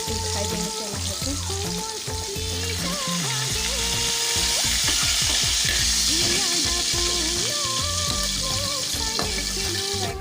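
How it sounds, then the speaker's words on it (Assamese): Fish frying in oil, a dense, continuous sizzle close at hand with rapid clicking and scraping from turning or stirring in the pan, loud and steady throughout. "ইতিমধ্যে মোৰ মাছখিনি এইফালে ফ্ৰাই হৈ গ'ল"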